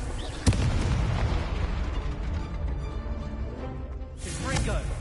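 Confringo blasting spell in Hogwarts Legacy: a sharp burst followed by a rumbling explosive roar that fades, then another blast swelling near the end, with a voice speaking over it.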